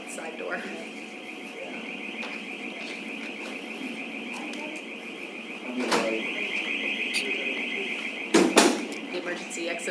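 A loud, steady emergency exit door alarm tone sounds continuously after someone leaves through a side door, with people talking under it and two sharp knocks or bangs near the end.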